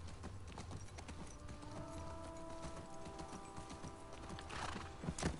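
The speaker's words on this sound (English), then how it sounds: "I'm gonna call this horse David." Video game horse hooves clip-clopping steadily at a walk with a whinny partway through, fairly quiet, mixed with faint mechanical tones in the background.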